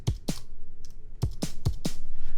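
Punchy electronic drum hits from a Teenage Engineering OP-1 synthesizer, a kick and snare pattern repeating twice with a short reverb tail after each hit, played alone.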